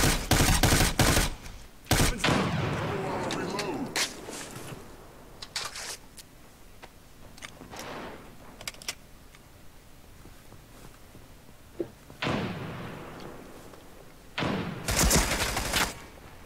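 Gunfire cracks in scattered bursts during a close-quarters clan match in America's Army: Proving Grounds, with sharp separate shots and short volleys spread across quieter gaps.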